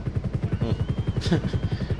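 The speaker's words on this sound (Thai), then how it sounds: "นี่คือเฮลิคอปเตอร์" Police helicopter in Grand Theft Auto V, its rotor thumping in a steady, fast pulse throughout, loud and close, with a brief whoosh partway through.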